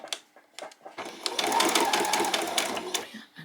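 A sewing machine stitches fabric pieces for a child's costume headband, a steady loud mechanical run of about two seconds preceded and followed by short start-stop bursts of stitching, close up with no talk.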